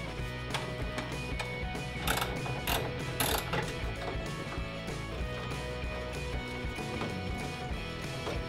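A ratchet backing out the screws on a custom car electrical panel, a dense, continuous metallic clicking of the pawl at close range with a few sharper knocks along the way.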